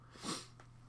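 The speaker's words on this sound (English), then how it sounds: "sorry for the sniffle there, folks" A single faint, short nasal sniffle, quick and close, over a low steady hum.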